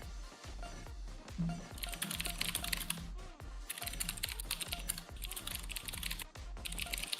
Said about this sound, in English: really going at his keyboard